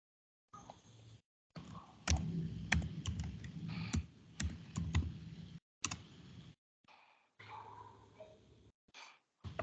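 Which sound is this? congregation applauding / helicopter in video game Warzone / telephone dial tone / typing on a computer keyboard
typing on a computer keyboard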